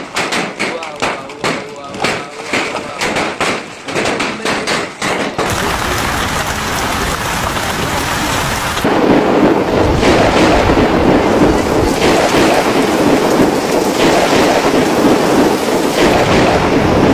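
Heavy rain with thunder, a dense steady roar of downpour with deep rumbling swells, close and loud; choppy bursts open the stretch before the rain settles into a continuous wash that grows heavier.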